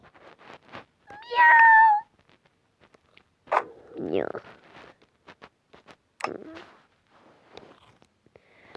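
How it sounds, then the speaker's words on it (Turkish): A cat lets out a long, loud meow, followed by shorter mews, soft clicks and scuffling, with voices speaking faintly in between. "Çok kedi ses geliyor"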